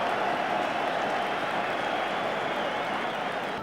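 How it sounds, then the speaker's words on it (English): Broad, steady crowd noise from a packed rugby union stadium during the England v New Zealand match in 1993, a sustained roar of cheering and clapping that holds at an even level for the whole stretch, with no break and no other sound on top. "The crowd cheer them to the echo"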